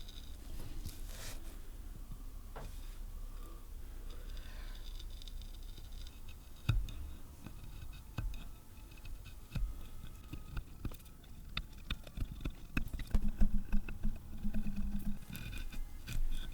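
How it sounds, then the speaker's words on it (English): Knife carving a walnut or maple stool leg into a round tenon, steady close whittling scrapes and small shaving cuts in uneven bursts, growing busier toward the end, no talking. "I needed to make that portion into a round tenon, so I grabbed a knife and started to shape it"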